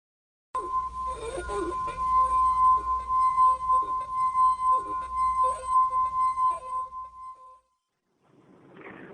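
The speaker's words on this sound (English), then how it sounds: "here is my rendition of a humming wine glass" A sustained pure hum like a finger rubbed around a wine glass rim rings for about seven seconds. Soft breathy sounds come through under it, then it stops and a brief faint noise follows.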